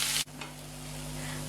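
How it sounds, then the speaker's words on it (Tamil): Chopped onions and two medium tomatoes sauté in a pan for a lotus seed gravy, a steady close sizzle with a brief loud burst as ingredients go in, under a low hum, no talk. "இதையும் சேர்த்து நல்லா வதக்கி விட்டுக்கலாம்."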